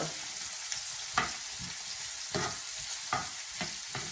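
Chopped celery, onion, carrot and jalapeno sizzle steadily in a hot pan, with a few sharp stirring scrapes at intervals over the constant frying hiss; no one speaks.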